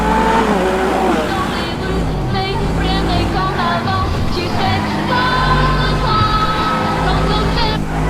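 A carbon fibre Lamborghini lapping a track in GTA 5 on a Top Gear map mod: a loud engine note rises and falls through gear changes while speech runs over it the whole time.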